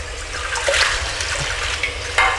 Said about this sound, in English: Rinse out my tray.